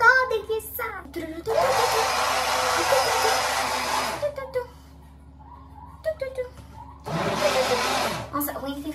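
A home kitchen blender runs loudly in two bursts, a steady whirring roar for about three seconds, then a pause with someone talking, then another shorter burst, with speech around it.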